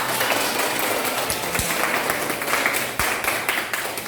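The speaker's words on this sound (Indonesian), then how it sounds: "Tepuk tangan untuk kita semua." A classroom group claps together at the end of a lesson, steady moderate applause with a few sharper individual claps standing out.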